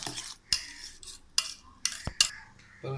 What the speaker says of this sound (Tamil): அந்த அடித்த முட்டையில் சேர்த்துக்கிறோம் எல்லாத்தையும் நல்லா நம்ம மிக்ஸ் பண்ணிக்கலாம்